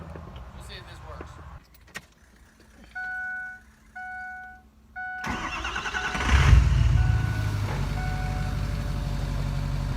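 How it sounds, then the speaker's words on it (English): A truck's ignition sequence: a few electronic warning chimes sound in a quiet cab, then the starter cranks and the engine catches, settling into a loud, steady low rumble close by. "I gotta go start the truck and hold the brake."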